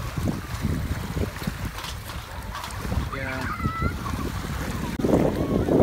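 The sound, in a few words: strong wind blowing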